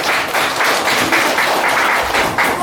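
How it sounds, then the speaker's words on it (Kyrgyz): A school audience claps for the first-grade pupils at an alphabet-book ceremony, loud, dense applause that swells in rhythmic waves. "Кол чаап койсоңуздар."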